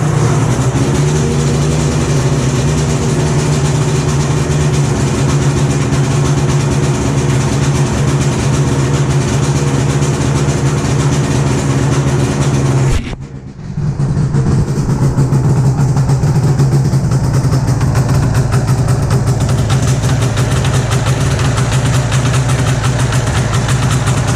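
A 1997 Yamaha Venture motorcycle engine runs on half choke, a loud steady idle with a low throbbing hum that briefly cuts out about halfway through before catching again and running on steadily.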